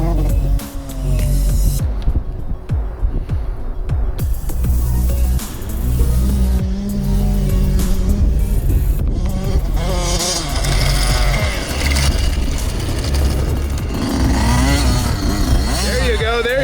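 A Yamaha YZ450F dirt bike being ridden, its engine loud and close throughout, revving up and down in rising and falling sweeps with barely a pause.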